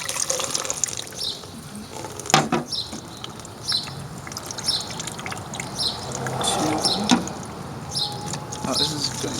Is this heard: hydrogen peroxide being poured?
yes